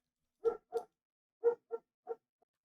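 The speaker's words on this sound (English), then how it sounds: "Was that doggo barking? That is doggo barking." A dog barks in short separate yaps, two close together, then a pause and three more, moderately near and clear against silence, with no talking.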